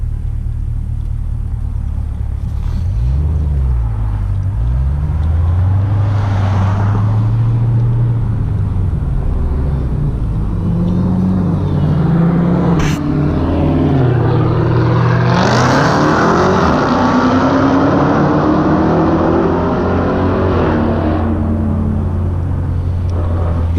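Cars, among them a Dodge Hellcat, race past nearby with a loud, deep engine rumble and rising revs that sweep by in waves, with no talking.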